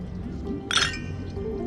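Glasses clinking together in a toast in the Honkai: Star Rail video game, a single bright chime heard over a steady low background of music and ambience.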